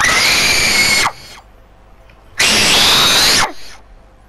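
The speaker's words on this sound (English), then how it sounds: "Let's see if you can do the loudest scream." Two very loud, long human screams, each lasting about a second, sit close to the microphone and are separated by a short quiet pause.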